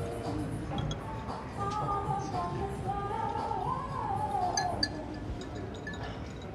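Glasses of water clink together once in a toast, a short bright ring rising over a steady, busy room tone, with voices murmuring in the background.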